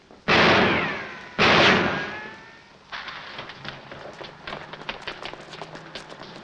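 Two sharp, loud gunshot blasts ring out in a classic 1947 film scene, each followed by a fading echo, then quieter scattered footsteps or clatter continue.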